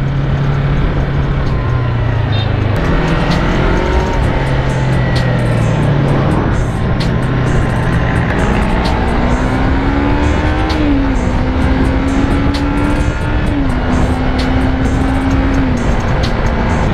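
A Yamaha YZF-R25 motorcycle on worn tires speeds along a Sumatran highway, overtaking large vehicles; a loud continuous engine drone rises and shifts pitch through gear changes with constant wind roar, no talking.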